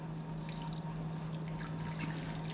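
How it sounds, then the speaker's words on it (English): Hot water poured into a baking pan for a crème brûlée water bath gives a steady soft trickling and splashing, continuous and close but fairly faint over a low hum. "I'm just gonna go ahead and fill it up here."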